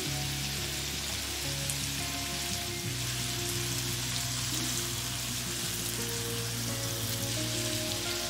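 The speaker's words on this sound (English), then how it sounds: "And now we fry the broccoli about 4 to 5 minutes. Now we add the garlic." Broccoli and garlic fry in butter in a pan, giving a steady close crackling sizzle like light rain, with tonal hum lines underneath and no speech.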